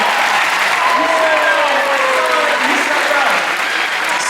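Sustained audience applause fills a high school assembly at a motivational talk, loud and steady throughout, with whoops and cheering voices rising over the clapping.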